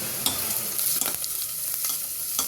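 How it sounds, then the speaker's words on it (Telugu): Chopped onion frying in a pan gives a steady close sizzle, broken by a few sharp scrapes and clinks of a spoon stirring through the short stretch, with no voices. "కట్ చేసిన ఆనియన్ వేసుకొని ఫ్రై చేసుకోవాలి."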